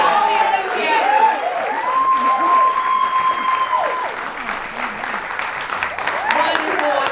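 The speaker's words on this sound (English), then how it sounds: "Keep clapping, there's a lot of them." Steady applause from a theater audience as the cast makes a grand entrance at a performance of Chapel of Love, with some cheering and a voice speaking over the clapping throughout.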